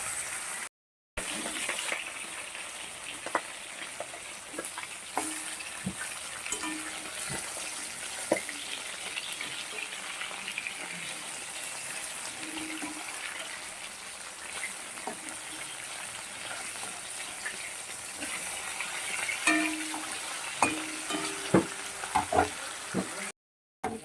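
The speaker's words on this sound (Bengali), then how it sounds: "আজ মাছগুলোকে ভেজে নিচ্ছি" Pomfret fish frying in a home kitchen pan, a steady close sizzle with crackling pops and scattered spatters running throughout, no talking.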